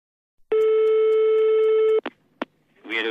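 A telephone sounds one long, steady electronic ring tone lasting about a second and a half, followed by a couple of sharp handset clicks as a voice begins to answer.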